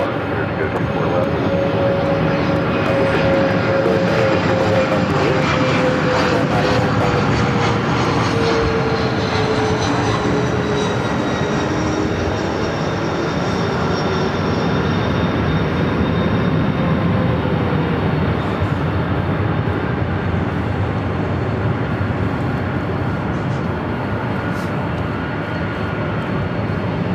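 An airliner takes off from runway 24 left at LAX with a sustained, loud engine roar and rising, then falling whine tones that fade gradually as it departs, with faint radio chatter in the background.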